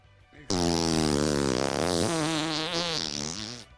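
A fart sound effect dubbed the air monkey: one loud, buzzy, wavering blurt lasting about three seconds, rising and falling in pitch, heard alone.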